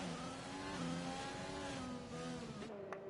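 A McLaren Formula 1 car's high-pitched engine wails steadily in the F1 2020 racing game at Hungary, loud and continuous as it shifts through gears, with a quick blip near the end.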